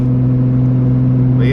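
A 1250 whp RB30DET turbo car engine idles while warming up, a steady loud rumble with strong low tones throughout, close by and running alone without boost.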